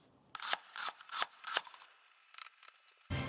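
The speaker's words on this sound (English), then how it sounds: "let's cut this steak" A knife cuts through seared steak for a steak salad, a series of short crisp slicing strokes in a loose rhythm, close and fairly quiet, with a louder knock at the end.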